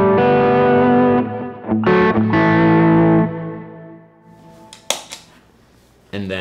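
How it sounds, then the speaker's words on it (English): Electric guitar played through a Milkman Sounds Amp Stereo pedal with the stereo signal summed to mono: loud distorted chords ring out and decay, then a few short picked notes and muted clicks, with a voice briefly heard. "The left one sums up the two audio tracks into a mono track."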